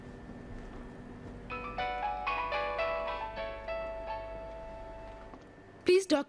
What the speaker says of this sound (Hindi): प्लीज डॉक्टर साहब, जरा रजा का फोन रिसीव कर लीजिए